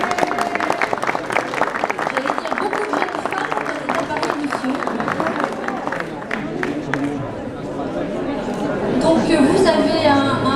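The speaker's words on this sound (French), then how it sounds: "On peut les applaudir." Audience applause for a nursing-school student arts association at a student awards ceremony, steady clapping mixed with crowd chatter and cheering throughout, loud and close.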